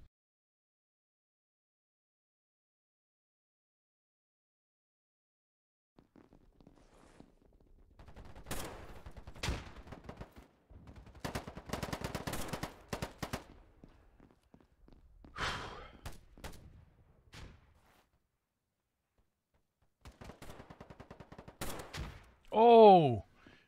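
Sniper rifle gunshots ring out in a rooftop shooting video game, several sharp cracks spread across the stretch with quieter gaps and rustling between them, ending on a louder burst.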